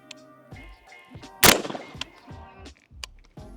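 A suppressed Gen-12 12-gauge shotgun with a 5-inch barrel fires one sharp, muffled shot mid-clip, surrounded by lighter mechanical clicks and clanks.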